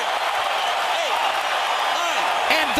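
A boxing arena crowd roars after a knockout in a Canelo Alvarez versus Carlos Baldomir fight. The loud, dense cheering and applause fill the whole clip while a commentator talks over it.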